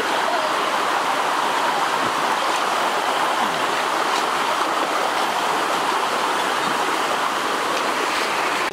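Steady, even rush of flowing water from a river, continuous and fairly close, with no voices over it.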